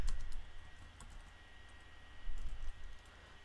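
Keys clack on a computer keyboard in rapid, uneven bursts of soft clicks, faint and close in a quiet room, with no voices.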